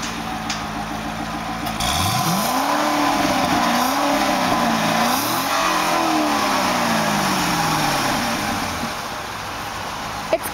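A 2006 Chevrolet Corvette convertible's dual-exhaust engine revs up hard and stays loud, its pitch climbing, wavering, then slowly sliding down as the roar fades near the end.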